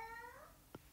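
Cats meowing in the background, a drawn-out rising-and-falling meow followed by a brief second call, faint under a quiet indoor room tone.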